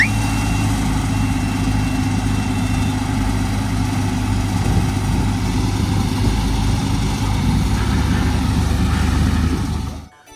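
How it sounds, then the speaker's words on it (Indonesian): A crane truck's engine idles steadily for about ten seconds, a loud, close, low rumble with an even throb that cuts off abruptly at the end. "Ini adalah truk derek atau crane."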